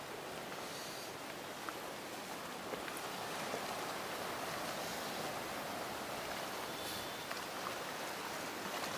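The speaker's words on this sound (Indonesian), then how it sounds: "Nah, pantai Karanghau." Surf breaking along Karang Hawu beach at Pelabuhan Ratu, West Java, a steady, loud wash of waves and roaring water that fills the whole stretch with no clear pauses.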